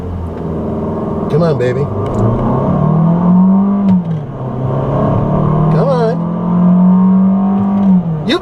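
A 2014 Fiat 500L accelerating from 0 to 60 mph with its 6-speed dual clutch transmission in manual mode. The engine is loud and close, revs rising and falling between gear shifts, while a voice speaks briefly over it.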